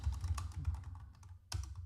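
Close typing on a computer keyboard, a rapid irregular run of soft key clacks with a short pause, then a final burst of keystrokes, with no voices.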